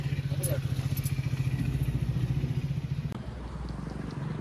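Several motorcycles ridden by a group of bike riders rumble close by on a road in a fast pulsing throb, then ease off slightly near the end, with a brief clatter.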